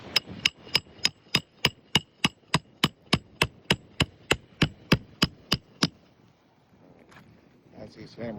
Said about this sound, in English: As he's hammering this down